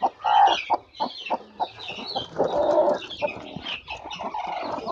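A brooding hen sitting on eggs clucks and grumbles steadily and close by, with low throaty murmurs and sharper clucks running through the whole stretch.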